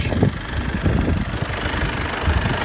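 A 1586 tractor engine idles nearby on a farm field job, giving a continuous low, rumbling drone with a faint knocking pulse and no speech over it.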